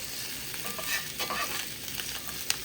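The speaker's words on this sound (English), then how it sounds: "I'm gonna saute onion, cilantro, radish, and have that with my ramen with tuna." Onion, cilantro and radish sauté in a pan with a steady, fairly quiet sizzle, punctuated by a few light clicks and scrapes of stirring, with no voices.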